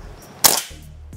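Predator Mini OD 38 PCP air rifle firing once, a crisp nearby pop with a short airy hiss that decays quickly, surrounded by near silence.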